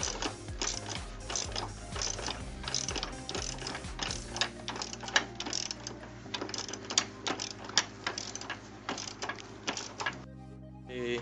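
Ratchet wrench loosening a bolt on the upper control arm of a 1992-96 Honda Prelude, with rapid close clicking strokes in uneven bursts, ending in a few slower clicks.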